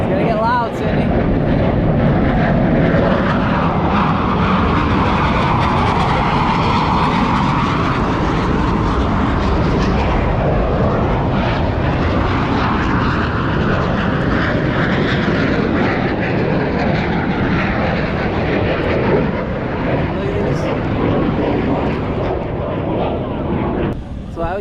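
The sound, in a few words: Blue Angels jet aircraft flying over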